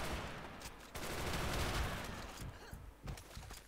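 Gunfire in the online shooter WarRock during a clan match, a dense rattling stream of shots that briefly drops out and then resumes with more bursts.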